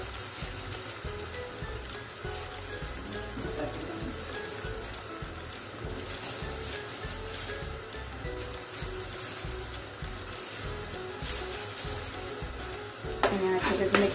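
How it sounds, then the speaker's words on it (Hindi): Onion, tomato and chole masala sizzle and fry steadily in a pan for chickpea curry, a continuous close crackling hiss with occasional stirring, ending in a brief louder burst of scraping. "मिक्स करके पकने के लिए ताकि प्याज टमाटर मसालों के साथ अच्छी तरह से भुन जाए"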